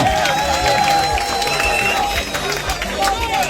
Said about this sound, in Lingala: Bobeta maboko pona mokonzi ya mboka